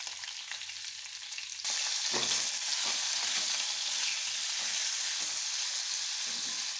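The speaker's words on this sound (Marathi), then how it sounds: "आता मिरची चांगली फ्राय झाली" Bell pepper frying in hot oil with mustard seeds and cumin in a pan gives a steady, loud sizzle, with a stronger hiss once more goes into the pan, and no voices.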